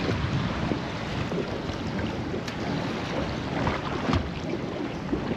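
Strong wind buffets a small fishing boat out at sea, a steady broadband roar with gusting rumble and occasional thumps against the hull, continuous and close with no voices.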